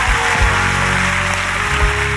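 A church congregation claps hands in praise during a sermon, a loud continuous wash of clapping with low musical tones sustained underneath.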